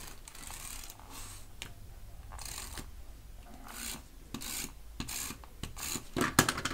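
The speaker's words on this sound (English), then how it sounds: "I'm going to put the tape on this piece." Tape is rubbed and pressed onto a piece of a handmade paper wallet, making repeated close dry rasping and scratching strokes in irregular bursts, with no voices.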